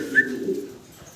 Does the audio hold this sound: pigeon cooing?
yes